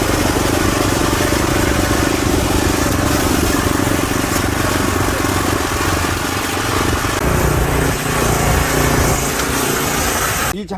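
A small farm carrier used for hauling fertilizer and sweet potatoes runs its engine loudly and close by, a constant rattling drone that holds steady for the whole stretch and cuts off at the very end.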